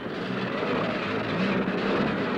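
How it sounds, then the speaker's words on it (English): A plane arrives in the pre-dawn hours at Niagara Falls Air Force Base during the 1977 Buffalo blizzard, its engines a steady, loud broadband roar that holds for the whole stretch with no voices. "The first plane arrived in the pre-dawn hours at Niagara Falls Air Force Base."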